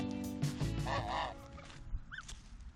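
Several loud goose honks in quick succession, nasal and harsh, followed by a couple of shorter rising calls against a noisy outdoor background.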